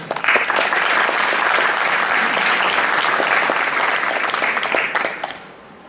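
A crowd at a state fiddle championship in Arkansas applauds a contestant with loud, dense clapping that holds steady for about five seconds and then fades out.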